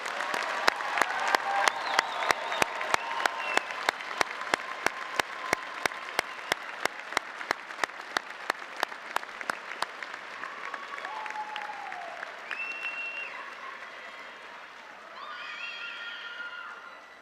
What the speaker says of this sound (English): join me in one more big round of applause for these 2025 graduates